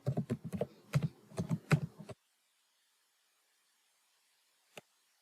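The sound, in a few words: typing on a computer keyboard, pressing backspace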